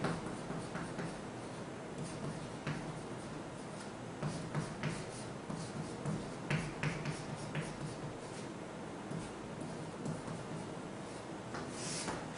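Chalk or marker scratches and taps against a board in a chemistry lecture on amines, coming as a run of short, faint strokes and ticks over a steady room hum, with no talk.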